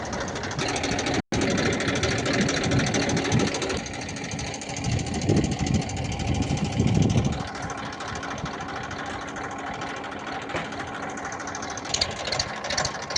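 A tractor engine idles and runs steadily at close range on a farm as sowing begins, a continuous mid-pitched mechanical drone with knocking texture, briefly cut out near the start.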